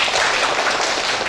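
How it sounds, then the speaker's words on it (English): Audience applause at an academic conference on Islamic studies in the digital era, a dense, steady wash of clapping that stays loud and continuous for the whole moment. "Big applause for all questions."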